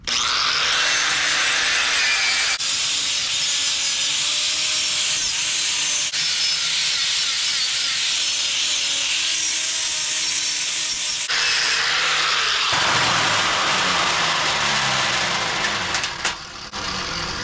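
Steel angle pieces are being cut with a loud, continuous, harsh grinding and cutting roar that runs unbroken for the whole stretch, with small shifts in pitch as the cut proceeds, and no talking.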